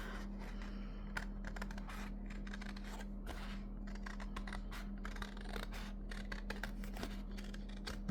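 Paper being fussy cut with scissors for handmade happy mail folders from 6 x 6 paper pads: soft, repeated snipping and rustling close by, steady and fairly quiet over a constant low hum.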